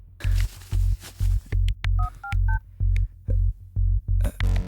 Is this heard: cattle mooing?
no